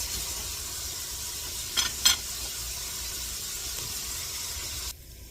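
Vegetables sizzling in hot oil in a pan, a steady soft frying hiss that runs on its own with a couple of brief clinks before cutting off near the end.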